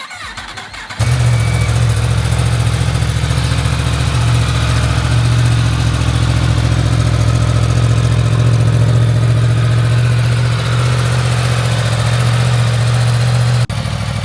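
A Yamaha motorcycle's cross-plane inline-four engine cranks over and catches after about a second, then settles into a loud, steady, close-up idle with a deep even hum that runs alone to the end.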